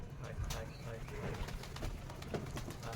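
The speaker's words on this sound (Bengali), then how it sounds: "আমার দেশি কবুতর সব ম্যাক্সিমাম আছে লোকাল গিরিবাজ" Local Giribaz pigeons kept with other breeds and country chickens coo softly in a loft, low murmuring calls under background rustle and faint voices.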